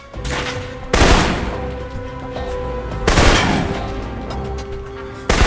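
Assault rifle fire in the action game Alpha Protocol: two loud, sharp bursts at the start and midway, each trailing into echoing decay, over a steady game background with no voices.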